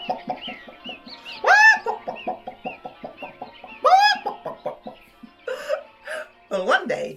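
Farmyard chickens clucking in the countryside, a busy run of short clipped clucks with a couple of louder squawking calls, close and clear with no talk over them.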